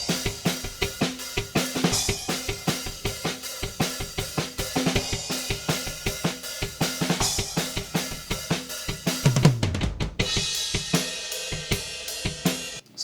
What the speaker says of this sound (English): This is just raw drum recordings.